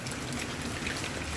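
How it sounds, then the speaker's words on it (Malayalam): Heavy rain falls during a thunderstorm, a dense, even hiss of drops spattering on surfaces in one short continuous burst, with nobody speaking. "പിന്നെ നല്ല മഴയാണ്"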